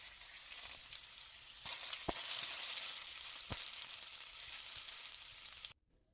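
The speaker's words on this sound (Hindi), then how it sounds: "गरम ऑयल में मैंने ये दोनों चीज़ें शामिल की हैं और अब इसे हम तड़का लगा देंगे।" Chili and paprika tempered in hot oil for a moong-masoor dal tadka, a steady close crackling sizzle throughout with a few sharp pops, cutting off abruptly near the end.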